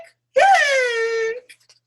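A voice imitates a cartoon skeleton screaming in a children's story reading: one long, loud, tonal wailing cry lasting about a second, close and alone in silence.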